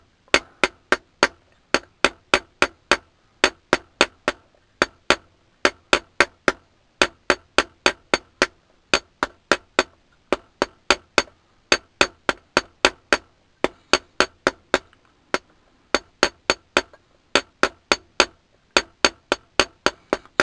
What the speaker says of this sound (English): You need stronger, more force with the hammer